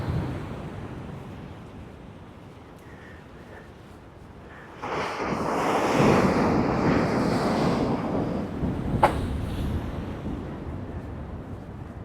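Rough sea surf surging against harbour protection walls beside a raised bridge, a low steady wash that swells into a louder, broader crash midway and keeps rumbling on with wind buffeting the microphone.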